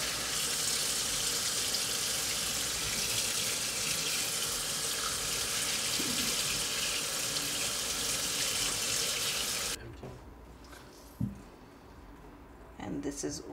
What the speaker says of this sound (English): Then I'm just gonna rinse.